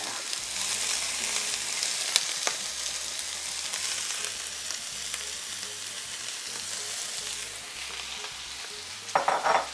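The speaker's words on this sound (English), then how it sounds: "We're gonna add our vegetables." Vegetables fry in a preheated pan for chicken watermelon tacos, a steady close sizzle with scraping stirs and a few sharper clicks near the end.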